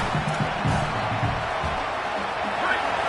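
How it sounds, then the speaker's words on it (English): Roaring football stadium crowd at full volume, a steady wall of cheering and yelling with muffled thumps underneath, sustained throughout. "This crowd, full throat, splitting the eardrums"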